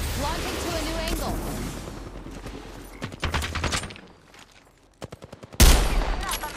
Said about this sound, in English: Enough, I'm getting shot.